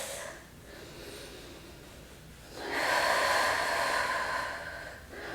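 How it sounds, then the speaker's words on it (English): Deep, drawn-out breathing during Pilates mat work: a quieter inhale, then one long, loud, hissing exhale held for about two seconds, close by. "Deep inhale. Long exhale."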